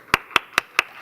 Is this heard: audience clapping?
yes